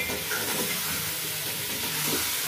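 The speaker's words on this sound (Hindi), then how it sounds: "इसे आप 5 मिनट के लिए अच्छे से भून लें" Minced meat (keema) fries in a pan for a village-style matar keema gosht, giving a steady, close sizzle with faint stirring scrapes throughout and no talking.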